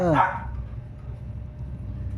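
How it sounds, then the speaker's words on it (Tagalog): A dog barks once nearby at the start, then a low background hum and faint household noise continue. "Ingay ang aso."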